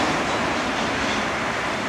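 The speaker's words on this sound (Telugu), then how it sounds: "అదిగో మనం వెళ్ళవలసిన మెట్రో వచ్చిందనమాట" A Paris Metro Line 6 train arrives at the platform, a loud, continuous rumbling roar of wheels and carriages that stays close and steady throughout, with no voices over it.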